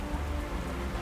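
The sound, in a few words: rain in the video game Mass Effect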